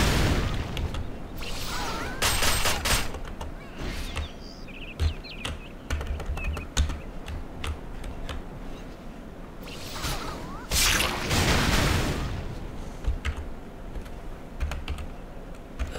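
Rapid typing on a computer keyboard during a TERA online game session, dense irregular clatter of keys with occasional heavier key strikes, close and steady throughout with no talking.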